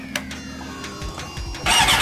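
A motorcycle engine is cranked with a few stuttering starter turns, then catches and fires up into a loud, steady running roar near the microphone, with no one talking.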